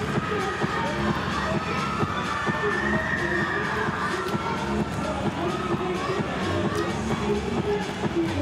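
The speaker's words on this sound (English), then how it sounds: "They calling out, the crowds are crazy." Crowd in a volleyball arena during a LOVB playoff match, Austin against Atlanta, calling out and cheering in a steady, dense roar that holds for the whole stretch, with voices shouting over the din.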